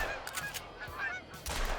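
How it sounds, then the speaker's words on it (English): A large flock of geese in theHunter: Call of the Wild honks continuously in a dense, overlapping chorus, moderately loud and steady, as if close at hand. "Oh my god, look at this. That is so many geese."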